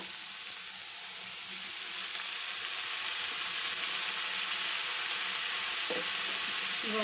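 Soaked legumes frying in a hot pan, a steady loud broadband sizzle filling the whole stretch, with a brief scrape of stirring near the end.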